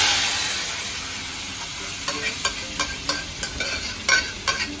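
A tempering for a colocasia leaf dish sizzles in hot oil, a steady close hiss with a run of sharp stirring scrapes and taps in its second half.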